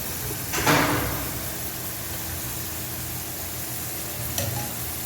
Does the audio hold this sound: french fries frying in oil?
yes